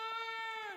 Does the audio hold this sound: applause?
no